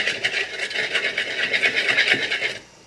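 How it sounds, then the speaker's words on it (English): Red wine vinegar salad dressing whisked in a bowl, a steady rapid scraping and rasping of wire against the bowl that runs continuously for a few seconds, close and fairly loud, then stops abruptly. "whisk really does kind of emulsify it better than a fork"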